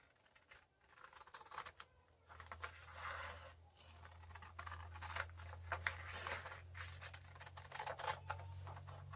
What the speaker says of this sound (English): Then you take a pair of scissors